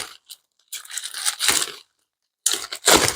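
Several short bursts of tearing and crinkling as a wrapped package holding a resin Ceti eel model is cut open, close and fairly loud, separated by silent gaps.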